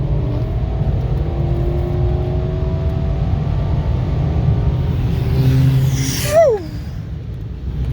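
A 2006 Lexus LS 430 Ultra Luxury pulls away, a low steady engine rumble that swells briefly, then a rising whine sweeps up and fades as the car leaves.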